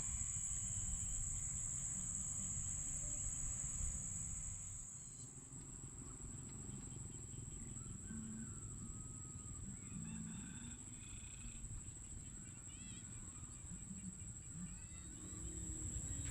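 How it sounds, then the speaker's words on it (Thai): Frogs and small frogs calling from a rice field at night, a steady dense chorus with high insect trilling over it and a low continuous rumble beneath, distant and even throughout. "กะมีเสียงกบเสียงเขียดห้อง"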